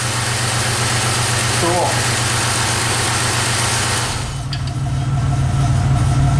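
A 1997 Pontiac Grand Am engine, freshly fitted with new spark plugs, idles smoothly and steadily up close, a continuous low hum with a brief voice speaking over it partway through.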